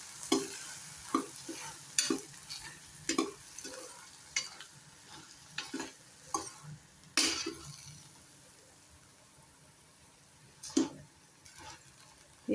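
Horsegram sabzi cooks in a pan on low heat while a spoon stirs it, making a soft, low sizzle broken by sharp, irregular scrapes and taps against the pan, all close and fairly quiet.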